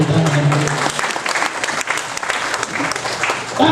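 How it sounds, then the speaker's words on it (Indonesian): A church congregation in Ontario, California bursts into loud, sustained applause lasting several seconds, with a voice audible at the start and end. "Yang setuju berikan tepuk tangan"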